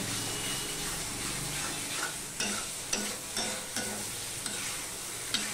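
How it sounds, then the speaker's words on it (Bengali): Fried potato pieces sautéed in a spiced pan for a Bengali katla fish curry, with a steady sizzle and periodic spatula scrapes and taps up close. "ভেজে রাখা আলুটা দিয়েও আমি একটুখানি মিনিটখানিক কষিয়ে নেব"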